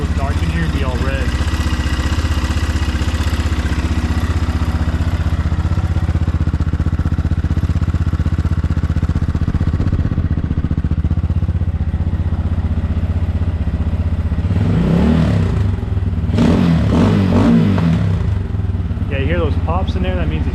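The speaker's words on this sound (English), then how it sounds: "Pops in there, that means it's running too lean." An X-Pro Templar 250 motorcycle with a Nibbi carburetor running lean, its single-cylinder engine idling close by in a steady loud thrum, broken by a cluster of sharp pops and sputters from the exhaust in the latter half.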